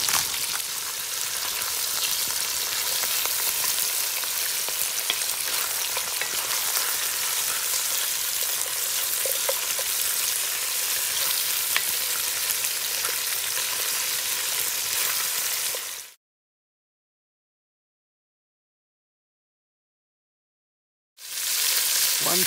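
Kudu meat browns in a potjie pot over a wood fire, producing a dense, even sizzle like steady rain that runs unbroken, cuts out to silence, then resumes briefly.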